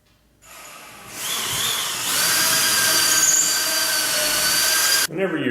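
A power drill whines up to speed and bores steadily into a garage wall stud, a high, loud buzz sustained for several seconds before cutting off abruptly.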